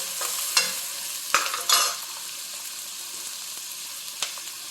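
Onions sautéing in oil for hotel-style vada curry sizzle steadily up close, broken by a few sharp spatula stirs and scrapes against the pan.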